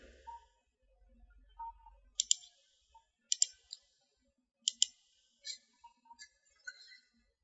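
Several sharp computer mouse clicks while working in an image-editing toolbox, spaced irregularly and heard close and fairly faint in a quiet room with no talk.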